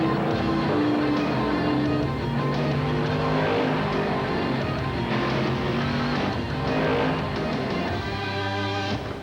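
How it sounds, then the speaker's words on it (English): The Miller Genuine Draft Rusty Wallace stock car roars steadily at high revs, a loud continuous engine drone with shifting pitch and no break, close and dominant. "The Miller Genuine Draft Rusty Wallace stock car. It's tearing up tracks everywhere."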